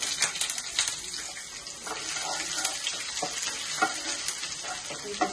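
Cinnamon, fennel, cumin, clove and chopped ginger fry in hot oil with a close, continuous crackling sizzle and bright spitting pops throughout, no voices.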